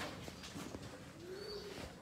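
A pigeon coos softly among faint background chirps and outdoor ambience, quiet and somewhat distant.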